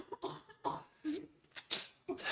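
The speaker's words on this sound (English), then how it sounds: "after a brief pause for another cough" Several coughs and throat-clearing bursts from a participant during a council scrutiny sub-committee meeting, coming in uneven clusters at close range with short gaps between them, each cough sharp and fairly loud.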